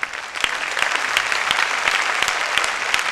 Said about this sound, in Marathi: ह्याला जोरदार टाळ्या द्यायला लागणारच आहे तुम्हाला